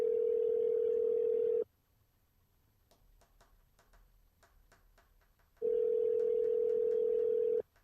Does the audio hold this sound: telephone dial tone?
yes